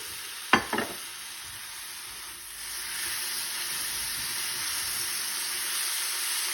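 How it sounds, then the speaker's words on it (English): Finely chopped tomatoes cook in a pan with onions and homemade masala for chana masala, a soft continuous sizzle following a brief clatter of stirring near the start. "We need to make sure that the masala gets very well mixed with the tomatoes"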